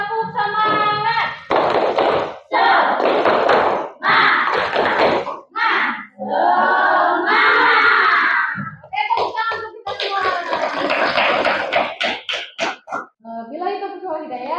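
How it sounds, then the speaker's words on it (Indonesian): A class of fifth-grade schoolchildren performs a rhythmic spirit clap chant, loud bursts of unison clapping and shouted chanting in a patterned beat, close and filling the room. "coba Ibu mau dengar kalian tepuk semangat"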